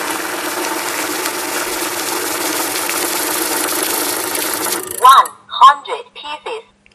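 A money counter machine riffles rapidly through a stack of banknotes, a dense, steady mechanical whir lasting about five seconds that cuts off abruptly, followed by a voice speaking.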